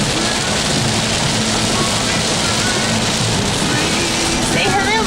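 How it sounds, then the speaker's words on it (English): Steady, dense rain drumming on a car's roof and windshield while driving, a loud continuous wash of noise with faint voices and a brief squeaky sound near the end. "It is raining."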